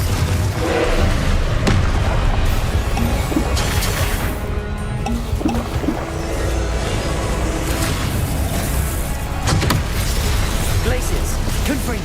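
Confringo fire spells blasting in the Hogwarts Legacy game, repeated booming bursts and thuds amid continuous combat noise, with a voice speaking over the action.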